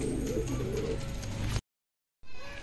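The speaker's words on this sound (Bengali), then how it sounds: "খুব সুন্দর পায়রা।" An Andhra kalanka pigeon coos softly and close, a low, throaty bubbling call that stops abruptly, falls silent for a moment, then resumes briefly.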